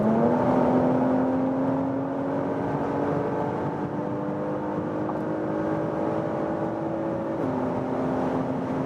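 A Porsche Macan GTS cruising at around 150 km/h gives a steady engine hum with rising harmonics under loud wind and road roar, one brief gear-change dip near the end.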